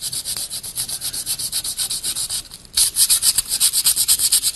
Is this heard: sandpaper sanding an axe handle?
yes